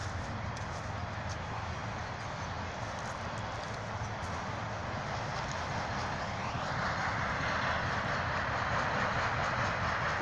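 A BNSF train passes through Peck Park in Galesburg with a steady, loud rumble of wheels and cars that grows brighter toward the end.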